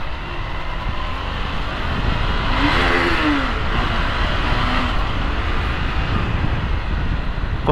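A motorcycle engine revs loudly and steadily for several seconds, with a brief rising whine near the middle and no voices.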